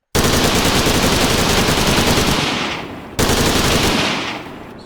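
Stock gun sound effects fire from a weapon in the video game Redwave 2, making loud continuous machine-gun bursts. One long burst tails off, and a second burst starts abruptly and then fades.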